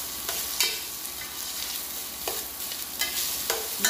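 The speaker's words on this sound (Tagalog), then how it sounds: "Pag umamoy na yung luya, lalagay na natin ang bigas at ang malagkit." Rice and glutinous rice being stirred into thinly sliced ginger frying in a pot for congee, a steady close sizzle with repeated scraping strokes of a spoon every half second or so, no voices.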